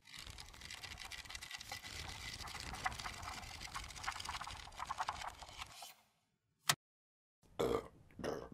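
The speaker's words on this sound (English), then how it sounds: "Lots of burps." A string of burps, loud and close, rolls continuously for several seconds before cutting to near silence, followed by a couple of short bursts at the end.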